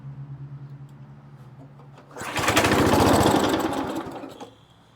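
An old Lazy Boy lawn mower's small engine is cranked and catches, a faint rhythmic chugging that swells into a loud, rough, steady running roar before easing off.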